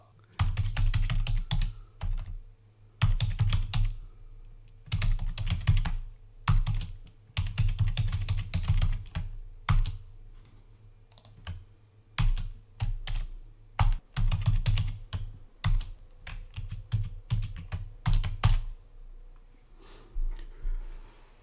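Computer keyboard typing while code is written, heard as dense bursts of rapid clicking keystrokes broken by short pauses, close and clear, with no voices.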